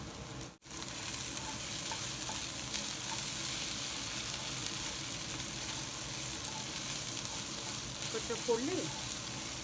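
Okra pieces fry in a pan under a continuous loud sizzle with occasional stirring scrapes, steady throughout except for a brief dropout near the start.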